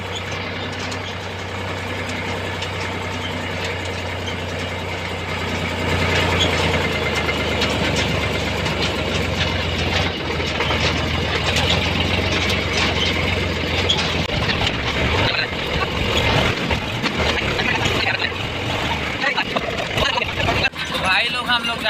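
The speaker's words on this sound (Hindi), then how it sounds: "अपना ट्रैक्टर भी देख सकते हो, ट्रैक्टर भी रेडी हो गया" A tractor engine runs steadily while driving along a rough village dirt road in Chhattisgarh, a low continuous rumble that grows louder and rattles partway through, with someone talking over it.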